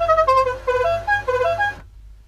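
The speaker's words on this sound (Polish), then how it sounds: "my tu mamy taki sygnał dźwiękowy" A novelty aftermarket musical horn fitted to a car plays a loud, bright melodic tune of quick stepped tones for about two seconds, then cuts off abruptly.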